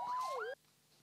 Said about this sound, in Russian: Андрея Мазоля проводили под гук пожарных сирен